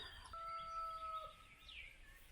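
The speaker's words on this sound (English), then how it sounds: "you can hear the chickens crowing down there" A rooster crows at a distance, one drawn-out, faint call carrying over quiet rural ambience in a hillside town among plum orchards.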